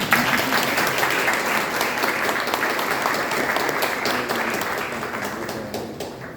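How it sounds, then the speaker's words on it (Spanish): An audience at a book presentation applauds the author with sustained, dense clapping from many hands that holds steady throughout and only eases slightly near the end, with no one speaking over it. "y no se molesta si le dan aplausos"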